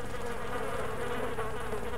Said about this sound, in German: Hier summt's und brummt's überall